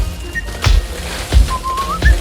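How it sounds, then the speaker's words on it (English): Short bright whistled notes, a brief tone early then a longer rising whistle, over soft background noise with a few dull low thumps. "How can he be whistling?"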